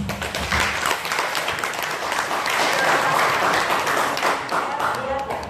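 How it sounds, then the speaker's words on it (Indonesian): An audience at an indoor government socialization event in East Java applauds with sustained, dense clapping from many hands, loud and steady throughout, with voices mixed in. "Boleh tepuk tangan."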